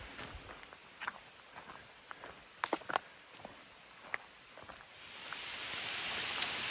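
A rain shower on the Appalachian Trail begins with scattered drops tapping on nearby surfaces, then builds into a steadier, hissing patter toward the end, soft and close with no talking.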